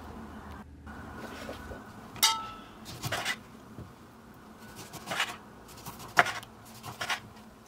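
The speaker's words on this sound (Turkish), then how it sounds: "yarım adet limonu dilimliyorum" A knife slicing a lemon on a board in several separate strokes, each a short scraping slice with small clinks, close up over faint background noise.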